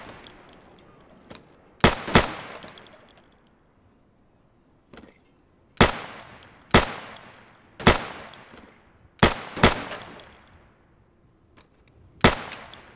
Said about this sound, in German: So Ziele ausschalten, die dann zufällig aufploppen